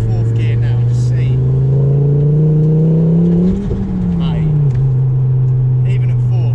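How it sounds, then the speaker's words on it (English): A 400 BHP Ford Focus ST with an X37 turbo accelerating in fourth gear gives a loud, steady engine drone that rises in pitch, dips briefly and then carries on strongly. The sound is close and continuous. "just literally a little prod on the throttle there, that's mad"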